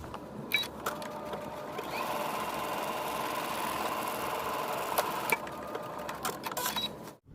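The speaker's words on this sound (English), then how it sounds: "we're going to take it to the machine and stitch along that basting line" A sewing machine stitches along a basting line on a garment, a steady mechanical whir and rapid needle rhythm running continuously for several seconds, bracketed by a few sharp clicks and taps as the fabric is positioned and the stitching stops.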